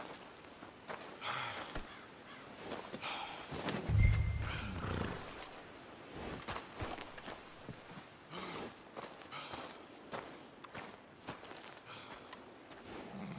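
Horse in the video game Red Dead Redemption 2, with a burst of hoof clatter and snorting around one moment amid game ambience and shuffling movement throughout.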